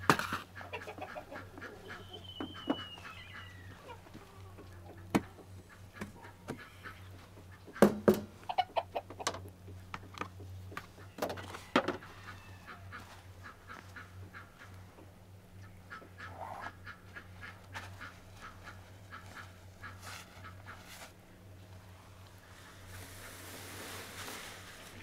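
Wild ducks quack and call around a farm during daily chores, in scattered bursts near and far over a quiet outdoor background, with occasional knocks and no speech.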